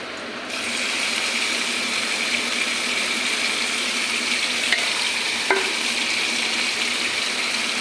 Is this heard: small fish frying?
yes